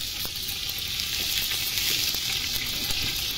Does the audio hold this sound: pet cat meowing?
no